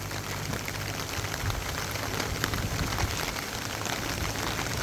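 Steady rain falls on a pepper field in a dense, even patter, close and continuous with no voices.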